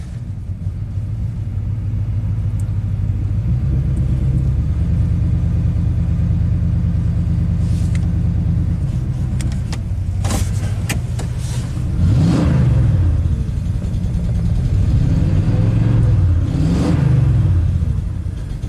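A rebuilt Ford big-block V8 idles with a steady, loud, lumpy rumble, then is revved in several sharp bursts that swell and drop back slowly toward idle, heard close up with no talk.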